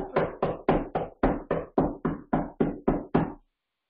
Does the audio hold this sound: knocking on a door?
yes